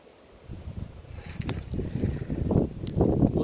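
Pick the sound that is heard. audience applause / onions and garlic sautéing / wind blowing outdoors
wind blowing outdoors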